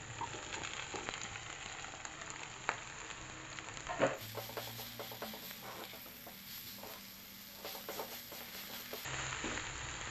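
Oncom, fermented Sundanese soybean cake, fries in a pan, a quiet steady sizzle with scattered crackles and a couple of sharper stirring knocks, close by and without talk.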